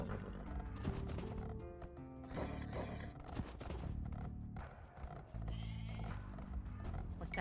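Sheep bleat in a real-time strategy game as villagers gather them under the town center, with repeated wavering bleats layered over busy game sound effects and faint voice prompts.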